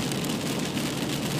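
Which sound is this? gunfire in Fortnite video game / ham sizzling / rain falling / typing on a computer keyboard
rain falling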